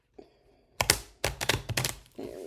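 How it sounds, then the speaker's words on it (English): A small deck of cards being shuffled by hand, with a quiet tap followed by several quick bursts of riffling and clattering cards in uneven rhythm. "I just not good at shuffling, so it's just a skill I have not learned yet."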